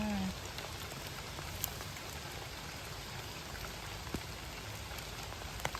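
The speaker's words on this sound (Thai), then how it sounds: "ฝนตกใส่แล้วจ้ะ" Steady rain falls outdoors in a rural field while digging for mushrooms, a dense continuous patter with a few sharper drops landing close by, heard alone with no voices.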